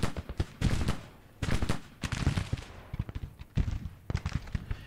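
Artillery and musket fire from the video game Grand Tactician: The Civil War, loud repeated cannon booms and crackling volleys in irregular bursts, with no talking.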